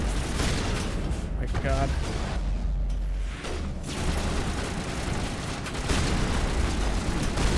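Repeated close-quarters shotgun blasts and heavy combat booms in the video game Mass Effect Legendary Edition, loud and continuous, with a voice exclaiming briefly over the gunfire.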